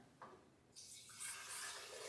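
Homemade beet juice is poured into a container, a soft liquid trickle and splash that rises in strength after a quiet start and keeps running to the end, with no talking.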